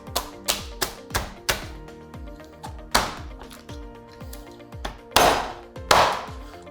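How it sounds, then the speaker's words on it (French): A poultry carcass is chopped on a cutting board with a series of sharp, irregular knife or cleaver whacks, about a dozen close distinct blows, the last few heavier. "Ici, je vais casser ma carcasse."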